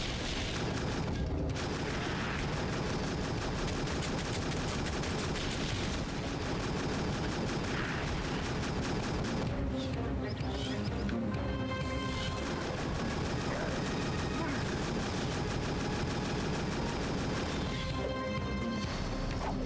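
Turret gunfire in a video game, a dense, loud barrage of booming shots and crashing impacts that comes in repeated bursts throughout, with a voice speaking intermittently over it.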